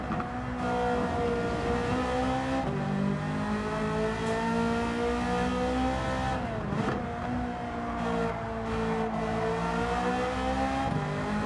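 A 1992 Ferrari F40 racing in a video game, its engine loud and close with a sustained harmonic roar that climbs through the revs, drops sharply at each gear change and swells again, with no talking.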